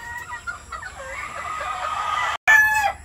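Gamefowl roosters in a breeding pen give a drawn-out crow and scattered clucks, close and fairly loud, with no voices.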